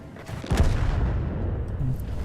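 Tank cannon shots in the World of Tanks video game, a heavy booming blast with a sharp attack and rumbling low tail, followed by a second softer report, close and loud with no talk.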